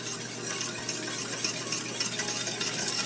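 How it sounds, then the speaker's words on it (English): Brown sugar blend whisked into a cooking sauce, giving a steady bright scraping and sizzling texture that is close and continuous throughout, with no talking. "we're just going to whisk that in there"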